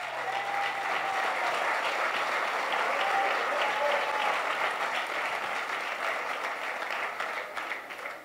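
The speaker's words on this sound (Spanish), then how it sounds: "Aumentale 100 al aplauso, por favor." A church congregation breaks into loud, continuous applause during a fiery Monday night service, many hands clapping steadily for several seconds before easing slightly at the end.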